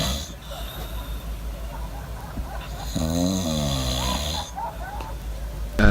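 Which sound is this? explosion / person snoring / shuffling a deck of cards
person snoring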